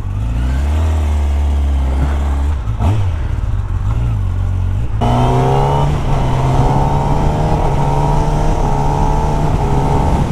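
A 2016 Kawasaki Ninja ZX-10R superbike of about 200 hp fires up with a loud, close engine roar that blips and settles. The revs then climb steadily as the bike pulls away and accelerates.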